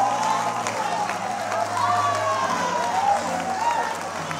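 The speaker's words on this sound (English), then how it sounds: "Come on, clap your hand right where you are." A church congregation claps along during worship, a dense rhythmic patter of many hands under a voice and some sung or shouted tones.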